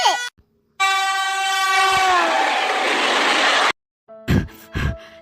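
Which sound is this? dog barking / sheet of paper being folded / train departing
train departing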